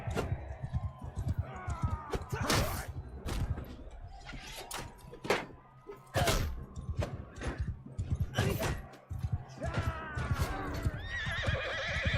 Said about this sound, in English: Why do I keep getting the horse?